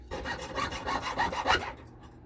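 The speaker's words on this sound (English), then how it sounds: "Then we're gonna saw this score mark." Hand saw cutting a metal jewellery strip along a scored mark while making domed pendants, a quick run of close, rhythmic rasping strokes that stops abruptly.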